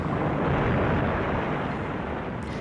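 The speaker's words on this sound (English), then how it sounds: "That's a bigger explosion." A deep, sustained explosion roar from war documentary footage fills the moment, a loud broadband rumble that stays dense and only slowly eases off without any other sound on top.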